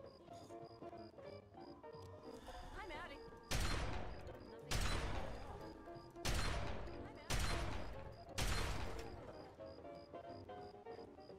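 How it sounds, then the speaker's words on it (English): Gunfire in the video game Fallout 3: five sharp, loud blasts at roughly one-second intervals, each ringing out and decaying, over quieter game ambience with brief speech. "Stop shooting at me."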